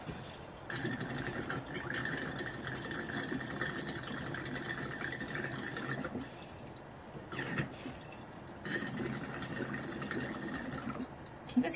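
Liquid gurgling as a container is filled, a steady bubbling, glugging flow that runs in long stretches with short pauses between, close and moderate in level, with no talking.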